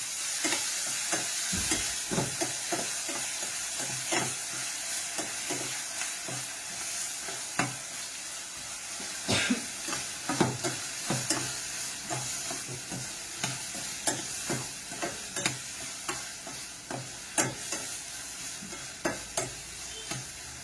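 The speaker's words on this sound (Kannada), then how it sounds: "ಫಸ್ಟಿಗೆ ಟೊಮೆಟೊ ಹಾಕೊಳ್ತಾ ಇದ್ದೀನಿ" Chopped tomatoes frying in a pan, a continuous gentle sizzle broken by regular sharp clicks and scrapes of a spoon stirring against the metal, close up with no voices.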